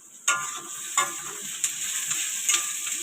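Onions sizzling in hot oil for a meat curry, a steady close hiss broken by a few sharp stirring scrapes of a spatula against the pan, no voices.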